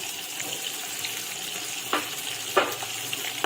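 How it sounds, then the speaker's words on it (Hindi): Mutton sizzles in a pan with ginger garlic paste, a steady frying hiss throughout with a few sharper stirring clatters, close up and with no one talking. "इसको दोबारा से 2 से 3 मिनट के लिए फ्राई करूंगी"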